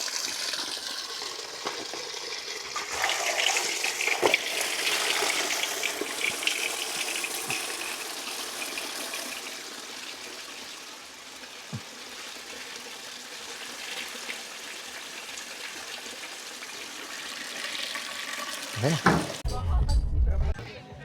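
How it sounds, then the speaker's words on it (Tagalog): Strong water rushes steadily from a faucet at an outdoor motocamping site, a broad hissing gush that runs nearly the whole time with a few knocks and a loud clunk near the end. "Ang lakas ng tubig."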